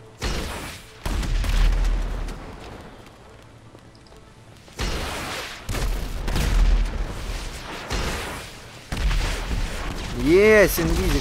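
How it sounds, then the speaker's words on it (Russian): Rocket explosions and booming blasts in GTA 5 Online gameplay, several heavy low thuds in bursts across the clip, loud and close, with game sounds between them. "вроде ракета мимо прошла"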